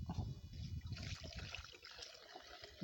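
Water is poured into a plant spray mixture being prepared for cauliflower plants, making a faint, close trickle and dribble that runs for a few seconds with no voices.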